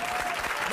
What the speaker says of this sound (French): L'applaudissement.